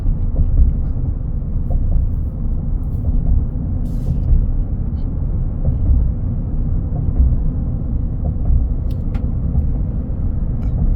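Deep, steady V8 rumble from a 2023 Chevy Silverado LTZ, heard continuously from inside the cab at moderate loudness, with a few faint ticks and taps riding over the low drone.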